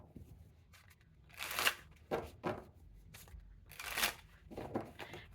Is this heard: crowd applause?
no